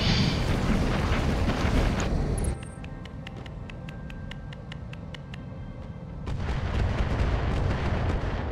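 Weapons fire striking an Arctic Cheetah mech in the game Battletech Roguetech, heard as a dense, loud rumble of blasts and impacts that eases into a run of sharp repeated clicks before the heavy fire swells again.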